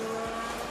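Formula 1 car engine at full throttle during free practice 2 at the Abu Dhabi Grand Prix, a sustained high-pitched whine holding steady and loud through the whole brief moment.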